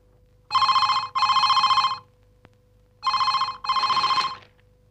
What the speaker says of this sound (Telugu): ఒరే సుధా, ఆ ఫోన్ ఎత్తరా.